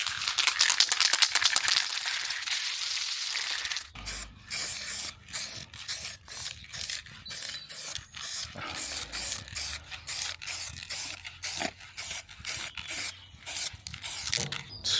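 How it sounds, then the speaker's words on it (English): A rattle can of spray paint hisses in a long steady burst, then gets shaken hard, its ball knocking in a fast, regular rattling rhythm, close and fairly loud. "how much of my life do I spend shaking rattle cans?"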